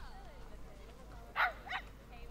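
A puppy in a zoo-management video game gives two short whimpering yips, up close, over a low steady background hum.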